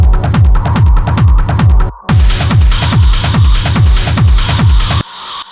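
A pulsing electronic effect sound with repeating, decaying thumps and gritty distorted texture, cutting out briefly midway before a softer tail at the end.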